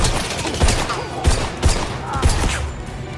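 Heavy gunfire in the video game 007 First Light, a rapid string of loud, close shots with four sharp, booming bursts standing out over a dense battle din.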